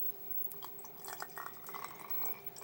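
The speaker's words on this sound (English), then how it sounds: "And then pour water inside of here." Water is poured into a plastic bottle while making slime, a thin trickling fill with small drips and glassy splashes, close and fairly quiet, no talking.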